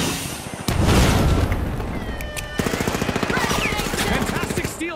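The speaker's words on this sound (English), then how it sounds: "Sending a frag." A frag grenade detonates with a loud boom in the video game The Finals, followed by steady rapid gunfire rattling at close range and crackling debris.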